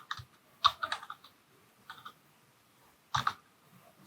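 Typing C code on a computer keyboard, heard as short, quiet bursts of clicking keystrokes separated by brief pauses, with no talking.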